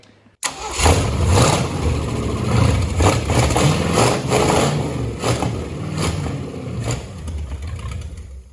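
Ford V8 engine, fitted with a carburetor and HEI distributor, bursts into life after a short pause and runs loud and close with a rough, pulsing idle and light revs.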